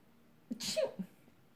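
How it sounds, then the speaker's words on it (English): A single short sneeze, close and fairly quiet, with a sharp breathy burst and a little vocal tail, in an otherwise quiet room. "Oh my goodness, I'm so sorry. I had to sneeze."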